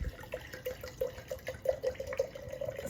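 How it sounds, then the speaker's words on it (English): Red wine, a 1988 Picchetti Zinfandel, being poured from the bottle into a glass: a soft, quick run of gurgling glugs and trickling liquid, close and faint, with no talking. "So let's give it a pour."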